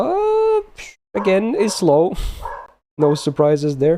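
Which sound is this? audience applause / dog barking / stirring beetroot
dog barking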